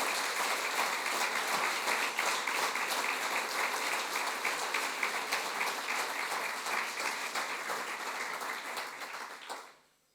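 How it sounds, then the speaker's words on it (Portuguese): A campaign rally crowd in Portugal breaks into loud, dense applause that holds steady for about ten seconds, then fades away quickly at the end. "queria pedir-lhes uma grande salva de palmas"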